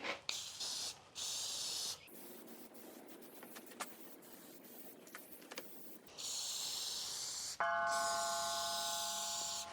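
Cheap spray paint hissing from an aerosol can onto a scrap steel truck hitch mast mount, several steady bursts of a few seconds each separated by pauses, close and loud, with a faint metallic ring near the end.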